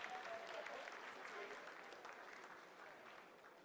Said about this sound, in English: Lot of applause